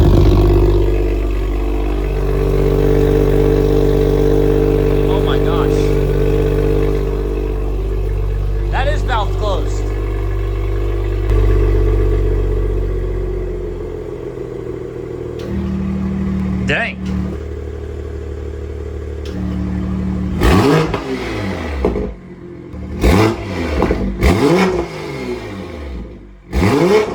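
A wrecked-then-rebuilt 2023 Toyota Supra engine drones loudly at first, then fires off sharp, repeated revs near the end. Voices talk over and between the bursts.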